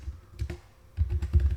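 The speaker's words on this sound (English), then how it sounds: "So I'm going to type" Quick typing on a computer keyboard while entering Python code in Dynamo: close, crisp clicky keystrokes in two short bursts separated by a brief pause, with no talking.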